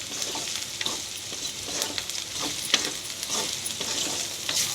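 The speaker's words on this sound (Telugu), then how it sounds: "ఒక 5 నిమిషాలు బాగా వేపుకుందాం, డీప్ ఫ్రై చేసుకుందాం." Ivy gourd (dondakaya) pieces deep frying in oil in a pan: a dense, steady crackling sizzle with frequent soft scrapes from stirring, close and unbroken throughout.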